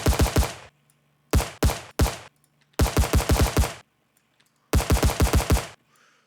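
An automatic weapon fires in an Unreal Engine 5 video game: four loud, close bursts of rapid rounds separated by short silences.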